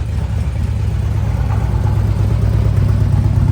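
A 2015 Harley-Davidson Ultra Limited with a 103ci engine, S&S MR103 cams and a ThunderMax Stage II runs at a loud, steady, deep idle close by, with no talk.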